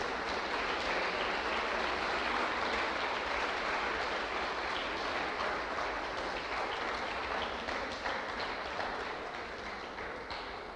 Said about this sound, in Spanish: yo quisiera que le diéramos un aplauso a Dios por la vida de los miembros de esta iglesia